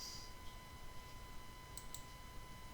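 A pair of quick, faint computer mouse clicks in Microsoft Word, sounding close together over a quiet electrical hum in an otherwise still room.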